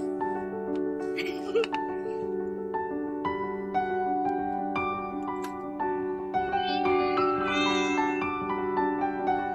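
Many cats at a tropical cat sanctuary meowing over one another, with overlapping high, tonal cries layered into a dense, continuous chorus that grows busier toward the end.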